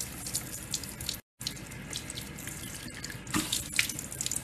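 Water runs steadily from a tap into a sink while a face is rinsed, a close continuous splashing stream with a brief dropout and a few louder splashes near the end.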